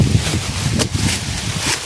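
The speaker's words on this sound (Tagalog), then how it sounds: "Pagkalakas ng hangin dito mga tol." Strong mountain gusts of wind buffet and rumble close by, a rough roaring whoosh that rises and falls with faint rustling.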